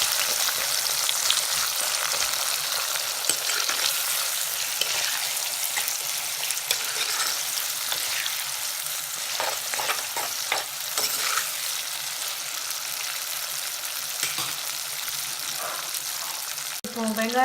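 Onions with salt sautéing in hot oil for a Tamil salmon fish curry: a steady, moderately loud sizzle runs throughout, with scraping stirs and clinks of a spoon against the pan, alone without talk.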